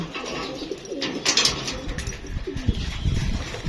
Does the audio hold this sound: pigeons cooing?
yes